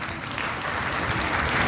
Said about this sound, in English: So I'll take this moment to give myself an applause.